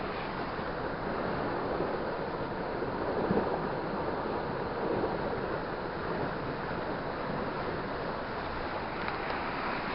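A brown river in Glen Prosen, Scotland, rushes beneath a rock with a hole through it, making a dense, steady roar of flowing water that is close and unbroken, with some wind buffeting.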